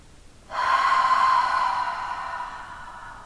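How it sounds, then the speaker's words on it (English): A single deep breath during a home yoga session, heard as a sudden strong airy inhale that then slowly fades into a long exhale, close to the microphone, with no speech. "Deep breath in and out."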